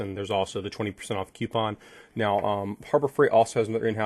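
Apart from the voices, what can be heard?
None of the usual background noises is heard.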